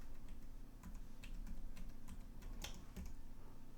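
Rapid keystrokes on a computer keyboard as a new password is entered, steady irregular clicks close by over a low background hum, with no talking.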